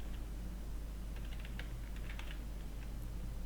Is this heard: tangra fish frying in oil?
no